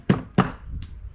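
Tough whelks being pounded with a mallet: two solid, close thunks in quick succession, then a fainter third knock.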